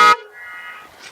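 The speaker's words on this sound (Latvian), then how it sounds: "Šim mocim ir labākā taure no visiem motocikliem." A Honda Goldwing motorcycle horn gives one short, loud, bright blast that cuts off abruptly, followed by a softer fading tone and faint background noise.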